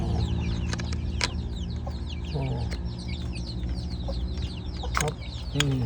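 Several chickens cluck and squawk close by in a busy, overlapping chorus, with sharp clucks breaking out over a constant farmyard murmur.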